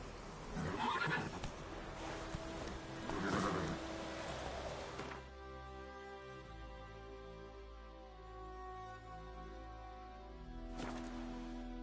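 A horse in The Witcher 3 video game lets out two loud whinnies, followed by a sustained tonal drone and another brief neigh near the end, with no talking over it.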